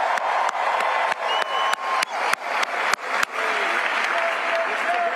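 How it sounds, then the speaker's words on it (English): An audience applauds first responders at a public meeting, a dense, steady wash of clapping in a room with sharp individual claps popping out and a brief cheer. "Give them a round of applause."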